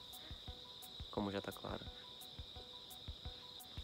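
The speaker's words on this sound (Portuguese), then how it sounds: "Gostoso esse barulho de grilinho aqui." Crickets chirp in steady repeated pulses by a riverside at dawn in Japan, a constant high buzz with periodic clicks, while someone talks briefly in the middle.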